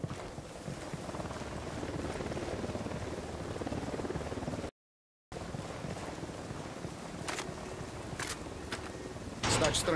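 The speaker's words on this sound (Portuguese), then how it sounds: "Helicóptero da unidade, em patrulha." A patrol helicopter in the video game Ghost Recon Wildlands produces a steady, wind-like drone of rotor and engine noise that cuts out briefly, then resumes with a few sharp clicks toward the end.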